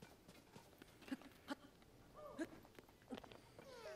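A horse in the Zelda: Tears of the Kingdom video game clip-clops in a few faint, irregular hoof steps over quiet game ambience.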